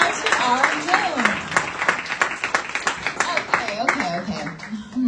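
A classroom of students gives a round of applause, a moderate burst of many small hands clapping in quick uneven rhythm, mixed with talking voices.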